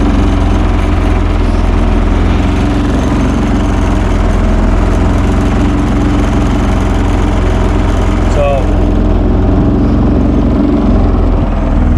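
A Predator 3500 generator engine holding a high idle, loud and close, with a constant droning hum and steady low throb throughout, and a brief faint squeak midway.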